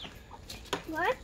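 A chicken gives a short, close cluck near the end of a brief moment, after a few faint background sounds.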